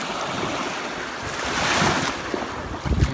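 Black Sea waves roll and wash onto a shore amid gusty wind buffeting the microphone, with a louder surge near the end.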